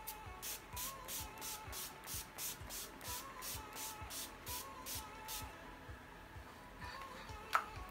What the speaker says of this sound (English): The all-nighter spray.